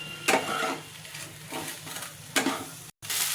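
Fish chop mixture spiced with garam masala frying in a pan over raised flame while being stirred: a steady sizzle with scraping strokes of the spatula recurring every second or so, close and moderately loud.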